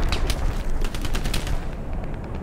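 Rapid bursts of gunfire from the Hell Let Loose combat game, a loud, dense crackle of machine-gun and rifle shots that runs through the whole stretch, with no voices.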